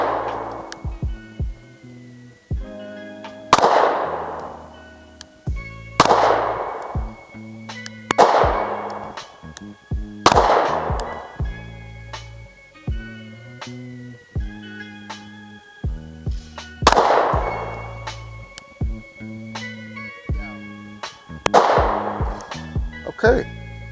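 A SIG P365 pistol fires at a shooting range: about eight sharp, loud shots spaced a few seconds apart, each with a short ringing tail, over background music.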